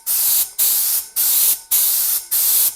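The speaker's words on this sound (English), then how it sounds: "usually you do a panel at a time, then you spray, and you go a pattern like this." A spray gun fed by a cheap compressed-air compressor fires five loud, evenly spaced bursts of hissing spray, each about half a second long with brief gaps between, close and alone.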